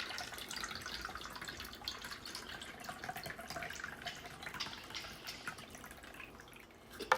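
Liquid pours and trickles steadily into a martini glass as a mocktail is served, a soft continuous splash close by, ending with a brief clink.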